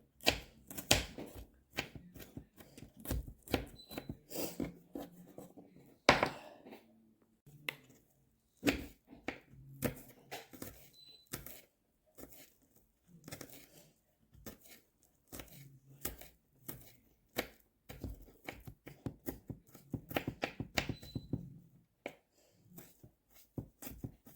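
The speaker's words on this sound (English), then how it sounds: "I'm going to chop these up fine" Nine garlic cloves finely chopped with a knife on a board, rapid close clicking knife taps in irregular bursts with brief pauses between runs.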